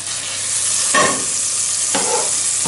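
Giant puffball and oyster mushrooms sizzle in butter in a pan, a constant loud crackling hiss broken by a few brief scraping stirs.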